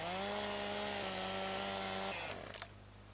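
A chainsaw trimming the edge off a cut tree limb, its engine droning steadily at high revs for about two seconds before dropping off and winding down to idle, close and loud.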